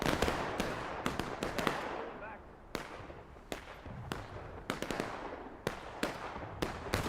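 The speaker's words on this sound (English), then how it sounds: "they might as well continue firing at the backs of these infantrymen" Musket fire across an American Revolution battlefield in a video game: scattered sharp cracks, mostly moderate and some more distant, popping irregularly over a low background murmur.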